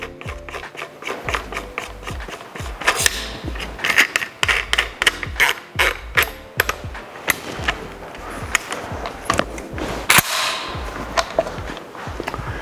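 Reassembly of a Buckmaster PB12 barrel and its locking nut: a dense run of sharp metallic clicks, taps and handling knocks close by, irregular and fairly loud.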